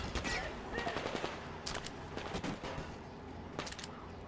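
Automatic gunfire in the post-apocalyptic shooter game Metro Exodus: several rapid bursts of close, loud shots, separated by short pauses and layered over dense in-game ambience.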